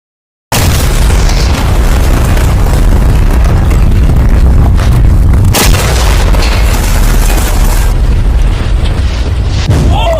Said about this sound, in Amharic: ይሄ በጣም ከባድ ፍንዳታ ነው።